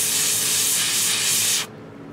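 An airbrush sprays paint onto a Reaper Hill Giant Lowland Warrior miniature in a loud, steady hiss lasting about a second and a half, then cuts off abruptly.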